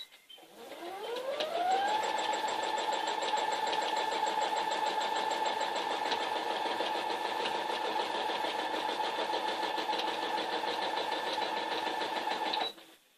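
A sewing machine doing free-motion quilting spins up from a quick whir to a steady, fast, even hum that runs for about ten seconds close by, then stops abruptly.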